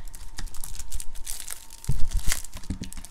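Close crinkling and tearing of packing tape and cardboard as a taped package is cut open with scissors, with scattered snips and rustles in short irregular bursts, no talking.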